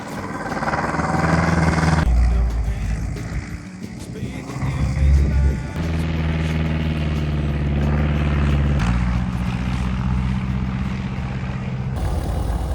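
A small propeller airplane climbs out for another circuit over a sloped mountain landing strip in Austria, its engine a loud, steady drone with shifting pitch as it flies, running throughout with no talk over it.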